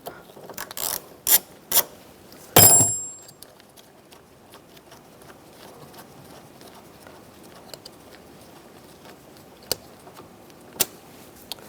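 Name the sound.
ratchet removing last bolt of Chevrolet Cruze side mirror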